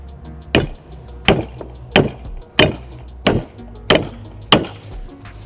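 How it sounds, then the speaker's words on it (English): Seven sharp hammer blows drive a metal stud down through a hole in wood, each strike a loud, close crack followed by a short ring, evenly spaced at roughly one per second with no talking. "I'm just gonna hammer this down up until the head here, and you'll feel it go through"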